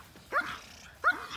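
A guard dog barks twice during protection pursuit training, two sharp, close barks about a second apart over a low background hum.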